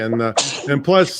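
A single short sneeze from a person, close and loud, between bits of speech.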